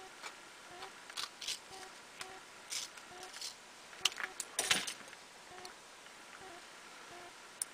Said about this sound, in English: You'll simply take a pair of scissors and cut out around the outer perimeter.